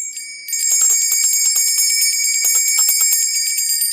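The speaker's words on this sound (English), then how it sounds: "Using some sound vibration, the bells, to help as well." Small bells ring steadily for nearly four seconds, used to cleanse tarot cards during a reading, with a bright sustained metallic shimmer and rapid repeated strikes after a brief quiet start.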